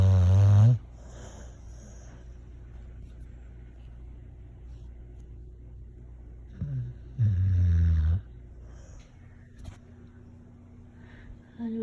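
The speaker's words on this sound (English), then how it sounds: "Oh, she's snoring too." A deaf pet dog snores while asleep indoors, with two loud, drawn-out snore bursts near the start and again around the middle, and quieter breathing between them.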